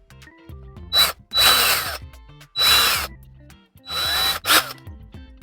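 Power drill running a Neiko step drill bit as it bores out a 1/2 inch hole, heard in four separate bursts of loud whining and grinding with brief pauses between them, close up and with no talking.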